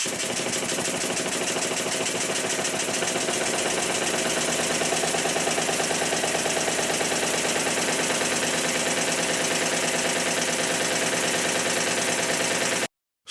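A Stuart Triple model steam engine runs with the gland on its high pressure cylinder blowing badly, giving a steady, dense, rapid chuffing and hiss that continues unbroken at close range.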